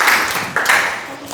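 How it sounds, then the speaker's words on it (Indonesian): An audience in a school guidance session applauds briefly, a short, moderately loud burst of many hands clapping that swells, dips and fades out within about a second. "Tepuk tangan untuk Hilwa ya."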